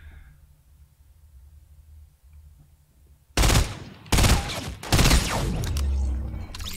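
Sniper rifle shots in the video game Fortnite come after a quiet stretch: several loud, sharp reports in quick succession, each with a short ringing tail, heard alone.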